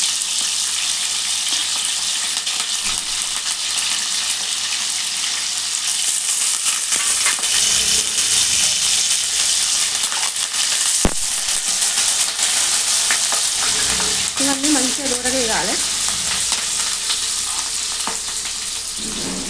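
Fenugreek leaves and curry leaves fry with green chillies in hot oil, a loud, continuous sizzle with occasional stirring scrapes near the end, and no talking over it.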